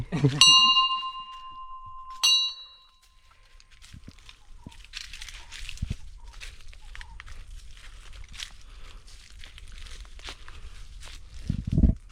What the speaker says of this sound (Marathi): घंटा बिंटा ऐकते हा भारी